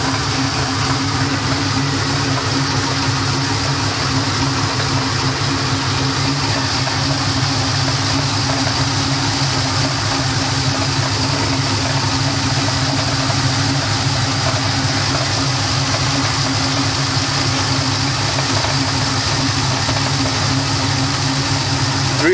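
A car engine idles steadily at close range with a new Gates Fleet Runner serpentine belt fitted, a constant low rumble and whir holding level throughout with no talk.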